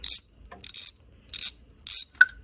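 A timing belt tensioner on a BMW E30 engine is worked in four crisp ratcheting bursts evenly spaced about half a second apart, close and fairly loud, with near silence between them.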